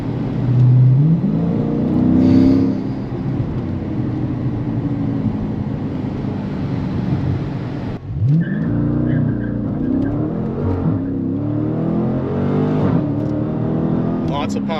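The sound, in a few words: 2021 Dodge Challenger R/T Scat Pack accelerating, rear wheels breaking loose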